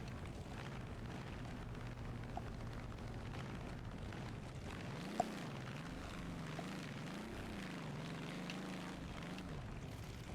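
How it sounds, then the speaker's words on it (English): DB603 45-liter aircraft engine running in BeamNG.Drive, a steady low droning rumble with wavering, rising and falling tones and faint ticks, no talk. "DB603, the 45-liter engine"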